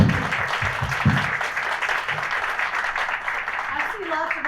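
Audience applause at a chamber of commerce "State of the Chamber" event, committee members being recognized; steady, dense clapping from a room of people fills the whole stretch, with some voices mixed in.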